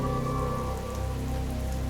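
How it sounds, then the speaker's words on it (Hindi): Rain falls steadily onto surfaces in a dense, continuous patter, soft and even with no voices, setting a dark horror-story mood. "बारिश की धीमी आवाज"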